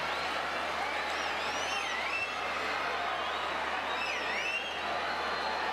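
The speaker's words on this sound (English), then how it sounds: "Jerry Papon hears the applause as he goes out" Distant arena crowd applause and cheering at a FIBA AfroBasket qualifier basketball game between Madagascar and Central African Republic as a player leaves the court, a steady wash of clapping and crowd noise, faint under commentary.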